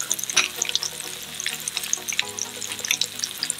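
Minced garlic hits a hot pan beside browned, flipped fish fillets and fries with a steady, close, crackling sizzle, dense fine pops throughout and no talking.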